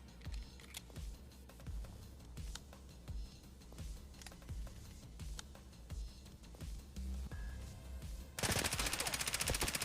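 SR3M rifle fire in Escape from Tarkov comes in fairly quiet, rapid bursts separated by short pauses, ending in a harsher burst of noise.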